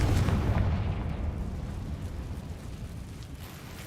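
A fire-spell blast in Hogwarts Legacy erupts as a loud, heavy booming explosion that hits hard at the start and then rumbles and crackles away into a long, dense low tail.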